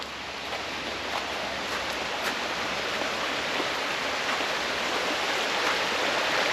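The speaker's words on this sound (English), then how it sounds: "behind the van we've got our own stream, our own river" A stream runs right behind a motorhome pitch in the Brecon Beacons, giving a steady, close rushing of flowing water that holds an even level throughout with no voices.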